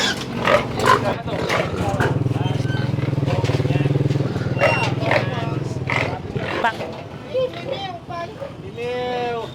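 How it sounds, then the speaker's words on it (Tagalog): Pigs being sold at a town livestock weighing station squeal and grunt loudly and continuously up close, mixed with people talking nearby. "So galito po yung baboy na binibenta po nila dito."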